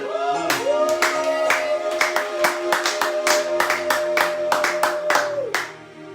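A church congregation breaks into sustained clapping that fills the room, with many hands beating loud and close, while a held organ or keyboard tone rings underneath before the applause fades out.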